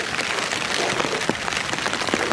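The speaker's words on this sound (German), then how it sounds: "Das ist richtig widerlich, dieser Regen." Heavy thunderstorm rain splashing onto surfaces at an outdoor bivouac, a steady close hiss broken by scattered louder drips and splatters, with no voices.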